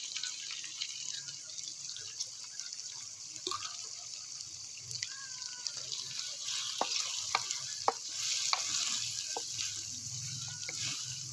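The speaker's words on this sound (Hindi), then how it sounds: "दो 3 मिनट हम मज़ीद इसकी भुनाई कर लेंगे ताकि हमारे टमाटर जो हैं वो अच्छे तरीके से गल जाएं।" Desi chicken and chopped tomato frying in a pot during bhunai, with a steady oily sizzle and scattered clicks and scrapes from stirring, moderately close and without talk.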